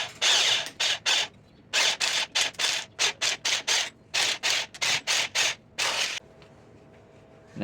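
An electric drill spins steel wire around a mandrel clamped in a vise to coil chainmail links, running in many short, loud bursts with brief pauses between them, then stopping into near silence at the end.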